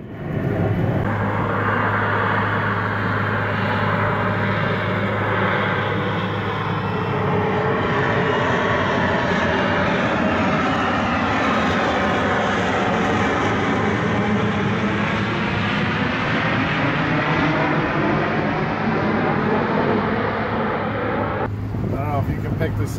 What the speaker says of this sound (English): This mini air show would go on for almost 2 hours.